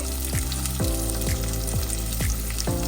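Fenugreek seeds fry in hot oil in a clay pot, a loud steady sizzle and crackle with faint intermittent scraping or stirring thumps underneath, no voices.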